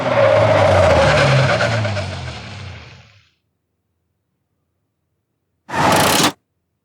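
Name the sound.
car skidding to a stop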